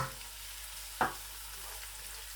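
Cumin seeds sizzle in hot oil while cooking arvi: a steady, low frying hiss with a single sharp crackle as the seeds hit the pan, then settling back to an even sizzle.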